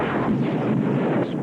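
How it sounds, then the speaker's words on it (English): Explosions from a mid-1990s TV movie advertisement roar in a dense, loud rumbling blast that holds steadily for over a second. "Explosions"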